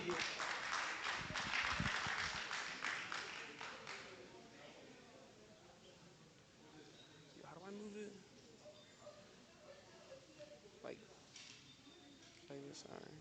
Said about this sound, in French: Des applaudissements pour encourager Ariel comme pour son hommage à Félix Roland Moumier.